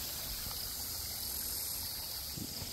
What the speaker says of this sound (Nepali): बाटोमा यसरी खोला बगेको छ।